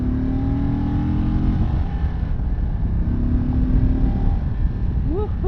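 Indian Chief Limited with the Thunderstroke 116 engine riding in sport mode, a steady loud engine drone under throttle heard on board, pitch shifting as speed changes.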